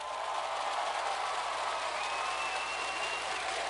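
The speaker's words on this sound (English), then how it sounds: "Give them a round of applause." Applause from a crowd at a keynote speech, a steady wash of clapping at moderate distance, fairly quiet and continuous through the brief moment.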